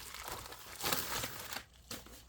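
UPS shipping envelopes are handled and torn open up close, producing soft crinkling and rustling with a brief tearing rip. The sound is faint and quiet overall.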